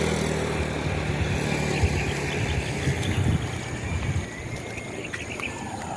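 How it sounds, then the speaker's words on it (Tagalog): Motorcycles and other vehicles pass along a rural road lined with houses, giving a steady, moderately loud engine rumble and road noise that swells and eases over several seconds, with no talking. "Dami nadaan mga motor, mga sasakyan."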